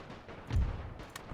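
Friendly crossfire in a Total War game set in the Great War, a muffled low boom swelling mid-clip over a dull battlefield rumble, with a couple of faint sharp cracks afterward.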